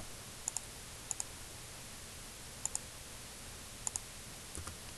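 Light, quiet clicks on a computer keyboard come in quick pairs spaced about a second apart over faint room hiss.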